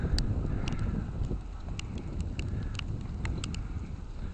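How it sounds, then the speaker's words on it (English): Wind blowing steadily outdoors during a snowfall, a continuous broadband rush buffeting close against the microphone with small gusting swells and faint scattered ticks. "The wind's blowing too."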